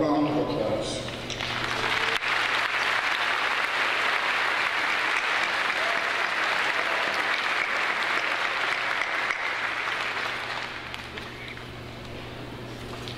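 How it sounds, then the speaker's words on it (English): An audience at the 2022 John Glenn High School graduation ceremony applauds the department chairs. The clapping is dense and steady, lasts about ten seconds, then thins and fades slightly toward the end. "let's please give them a round of applause"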